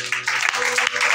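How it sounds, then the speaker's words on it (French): A church congregation at a Sunday service breaks into applause, a brief dense burst of clapping with voices mixed in. "Tiens, acclamons le Seigneur."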